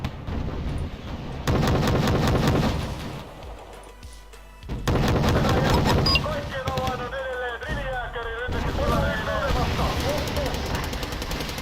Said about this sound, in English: That'll be a nice bombing strike, hopefully.